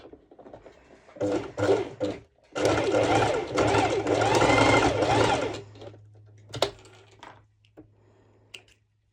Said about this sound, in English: I will be placing my sewing machine just like that.